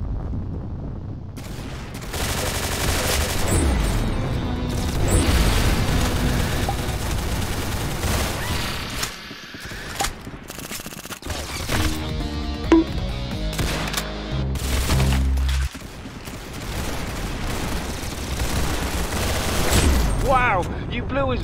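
Rapid gunfire in the Roblox Arsenal game: dense bursts of shots and automatic fire run almost without pause, with brief gaps, and a voice speaks occasionally over the shooting.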